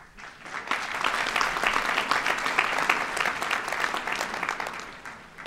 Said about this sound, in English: Let's please give a round of applause to our 240 staff professionals